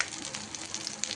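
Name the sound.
drumstick leaves frying in oil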